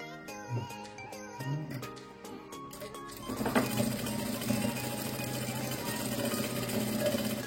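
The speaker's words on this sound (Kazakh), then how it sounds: "Енді 3 сантиметрдей қалдырып, сол жерден қайтадан тігісті жалғастырамыз." A sewing machine stitches a strip for a two-sided turban headband. A few short bursts of rapid mechanical clatter start and stop, then a longer continuous run of stitching whirs steadily up close.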